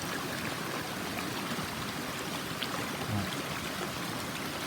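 A forest stream in Xaisomboun province flows steadily with a constant broadband wash of running water, nearby and even, with no voices.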